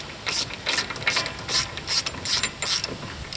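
A hand ratchet with a 32mm socket running down a wheel bearing nut on a Ford Explorer, with rapid pawl clicking in about eight quick bursts, close and clear, with no talk.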